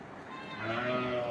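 A farm sheep lets out one drawn-out bleat, rising in loudness midway and wavering, close by in a quiet morning barnyard.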